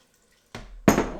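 Tap water runs into an Instant Pot, starting abruptly after a short silence with a brief softer gush, then a louder, fuller splash close by.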